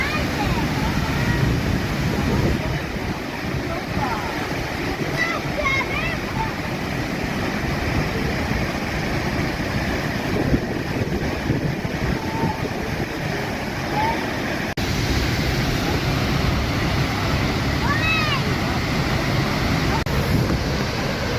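Steady broadband roar of Ingleton waterfall in Yorkshire, continuous and fairly loud throughout, with faint bird calls and wind buffeting the microphone.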